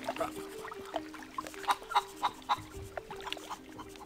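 A chicken clucks in The Curse of Monkey Island video game, a string of short, soft clucks quickening in the middle over a steady low background hum.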